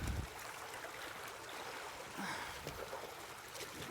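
Water washes steadily through a Royal Manufacturing sluice box, a continuous rushing trickle with a brief louder splash at the start, close and alone without talk.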